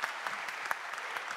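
An audience at a conference on energy financing claps steadily, a dense burst of many hands applauding together at moderate distance for over a second without pause.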